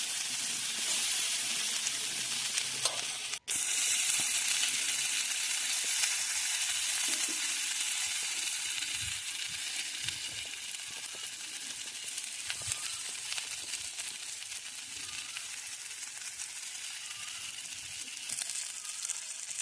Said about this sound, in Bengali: চাটুতে এবার আমি পনিরগুলোকে এপিট ওপিট করে হালকা করে